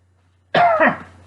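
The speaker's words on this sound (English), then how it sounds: "coughing my head off" A single harsh cough, close and loud, with a rough throaty burst and a short rasping tail, in otherwise quiet surroundings.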